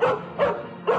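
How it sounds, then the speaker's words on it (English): A dog gives three short, close barks in an even rhythm, each a sharp yip-like woof, loud and alone with no talking. "I'm sorry, that's my dog, Rocky."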